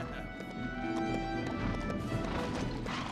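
Horse hooves in LEGO Marvel Super Heroes 2, a steady clip-clop trot under background game music, close and continuous.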